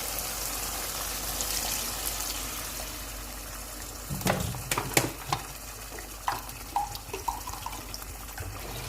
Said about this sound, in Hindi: अब मैं इसमें पानी शामिल करने लगी हूँ।